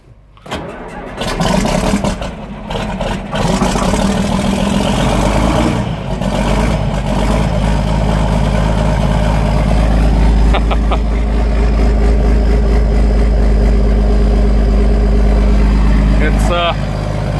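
A restored John Deere 5010 tractor engine idles steadily after a cold start on a cool day, a loud, continuous low rumble that runs alone for most of the stretch, with brief clatter near the start.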